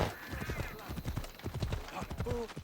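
Horse hooves clip-clop at a steady gallop on a road in the video game Assassin's Creed Odyssey, close and rhythmic, with a brief whinny and someone talking over the hoofbeats.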